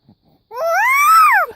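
A child imitating a monkey with a single high, rising-then-falling squeal lasting about a second, close and loud in an otherwise quiet room.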